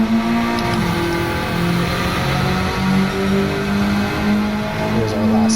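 A Honda Civic Type R FK2 accelerates hard on a track, its engine drone loud and steady throughout as it pulls down a straight, with rising and shifting tones from the revving motor.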